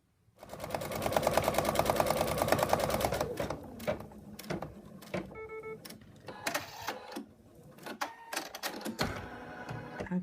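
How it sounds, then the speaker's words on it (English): An embroidery machine stitches an in-the-hoop wallet pocket, a fast steady mechanical chatter for about three seconds, then shorter bursts of stitching broken by clicks and pauses, fairly close and clear with no talk. "So now we're going to stitch that."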